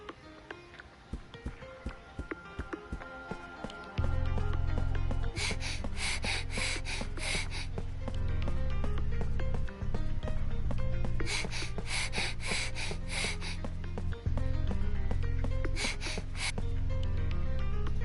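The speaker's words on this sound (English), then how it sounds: "Sheena, you're doing a lot of heavy breathing." Heavy, rhythmic breathing from a character in the video game Death End Re;Quest, looping steadily over a loud continuous game soundtrack with a low drone and no speech.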